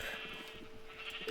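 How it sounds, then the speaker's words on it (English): Sheep bleating in the video game Minecraft, short quiet bleats over a faint steady background with no talk. "Oh, hello sheep."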